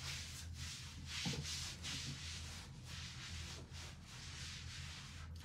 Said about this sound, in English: so I just sprayed my mitt and I'm just rubbing it in